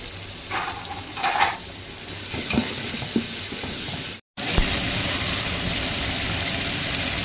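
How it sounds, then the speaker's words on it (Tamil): Garlic paste fries in hot oil for chicken biryani, a loud, steady close sizzle with a few stirring scrapes and a momentary dropout near the middle, no voices. "பூண்டு வந்து ஐம்பது கிராம் அளவுக்கு பேஸ்ட் பண்ணி வச்சுருக்கேன் போட்டுக்கலாம்"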